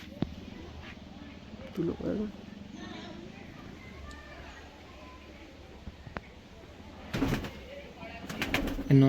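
A Madrasi pigeon at a pigeon sale gives a few low, soft coos, heard faintly beneath someone talking nearby.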